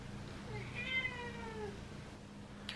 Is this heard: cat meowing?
yes